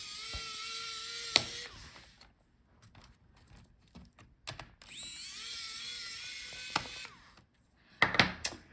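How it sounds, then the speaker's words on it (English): A small electric screwdriver whirs in two sustained runs, backing screws out of a Lenovo ThinkPad E14 Gen 4 laptop, with sharp clicks and taps between runs, close and fairly quiet with no voices. "So unscrew all the screws."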